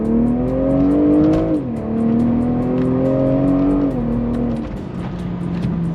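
A BMW M340i G20 launches hard from a dig in Sport mode, its loud engine climbing in pitch, dipping briefly at a gear change, climbing again and then easing off, heard close from inside the car.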